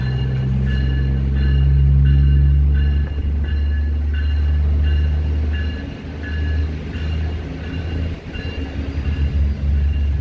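A loud, steady low rumble of a moving train, with rhythmic rattling and clanking from the wheels heard from inside the carriage.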